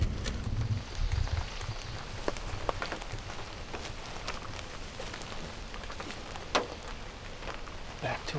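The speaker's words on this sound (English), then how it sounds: "It's raining" Steady rain patters on a surface, with scattered heavier drops and taps standing out against a continuous soft hiss.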